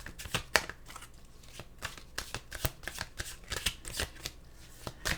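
Tarot cards are shuffled close up in quick, repeated riffling bursts, a crisp papery flutter at an irregular rhythm with no talk over it.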